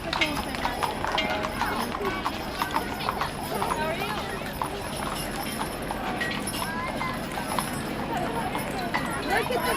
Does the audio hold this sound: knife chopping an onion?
no